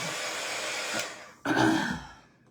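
A hair dryer blows steadily on a DIY bunny-in-egg craft kit, cuts off briefly, then roars back louder and winds down to silence.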